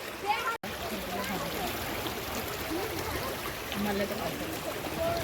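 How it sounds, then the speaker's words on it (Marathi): Water rushes steadily at Dhaniv Bagha waterfall, a continuous broad wash of flowing water heard from nearby with faint voices in the background. "आता आपण खाली चाललोय खालच्या धबधब्यामध्ये"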